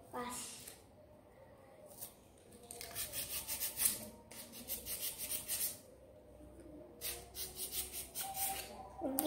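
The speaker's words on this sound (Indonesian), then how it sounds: "Pertama-tama kita siapkan amplas atau kertas gosok." Repeated scratchy rubbing strokes of sandpaper, steady back-and-forth rhythm, close by, with some low talking in between.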